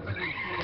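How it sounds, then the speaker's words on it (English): Tires skid and squeal as a car drifts around a track in the racing video game Gran Turismo 6, a brief continuous screech with engine tone beneath. "Dude, I just drift around you."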